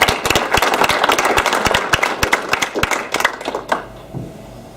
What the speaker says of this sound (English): Let's give a nice round of applause for Rob Armstrong.